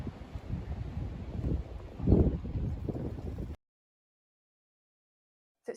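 Wind on a breezy day at a sailing spot buffets the microphone in rumbling gusts, with a stronger gust midway, before the sound cuts off abruptly into silence.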